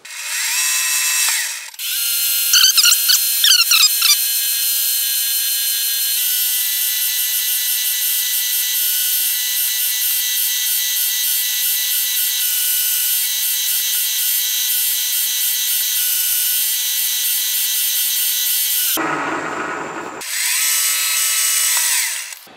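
A number 7 drill bores a 9/16-inch-deep clearance hole while building a Hemingway Kit spherical ball turner, a loud steady high whine running nearly the whole time, with a brief dip before it resumes at the end.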